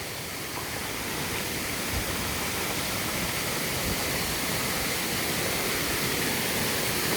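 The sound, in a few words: waterfall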